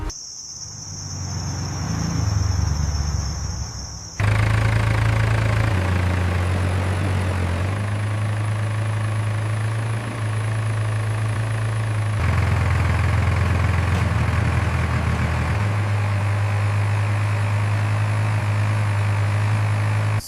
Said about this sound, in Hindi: वो देखो, कोई ट्रैक्टर वाला आ रहा है।